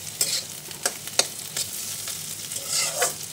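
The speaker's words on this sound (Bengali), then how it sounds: "এখন এর ভিতরে বেগুন ভাজার টুকু দিয়ে দেব।" Onion, chili and fried eggplant are stirred in a frying pan, a spatula scraping in several sharp strokes over a soft steady sizzle, close and fairly quiet with no voices.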